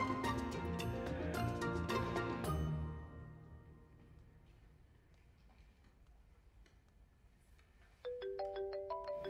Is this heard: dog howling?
no